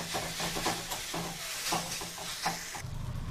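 Grated raw papaya being stirred constantly in a pan: soft, repeated spatula scrapes and clinks over a low sizzle, fairly quiet and close, with a brief low rumble near the end.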